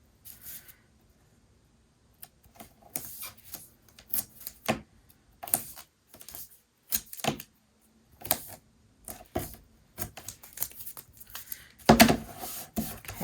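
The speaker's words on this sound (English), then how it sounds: "what we're going to do is get our double-sided tape down on the back of this." Double-sided tape is laid down on the back of paper while making a Halloween 4x5 pocket mini album: close, scattered crackling and rustling bursts with short pauses, ending in a louder crinkle.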